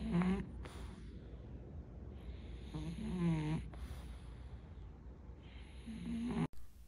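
A French bulldog snores in a quiet room, with three drawn-out, rasping snore cycles repeating every few seconds over a faint hum.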